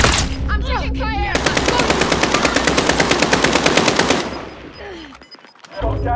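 Loud, rapid automatic gunfire from Call of Duty Warzone rattles in a sustained burst lasting several seconds, then tails off into quieter game ambience before a short rumble returns.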